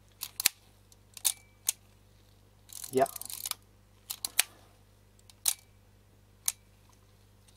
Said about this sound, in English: let's try to cock the shutter and see if it will work.